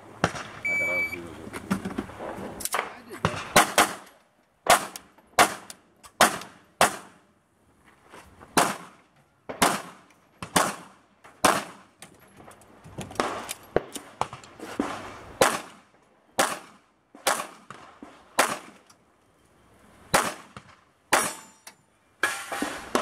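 Pistol shots at a police shooting competition ring out in a long series of sharp, loud cracks, some in quick pairs and others spaced a second or two apart, with brief talk near the start.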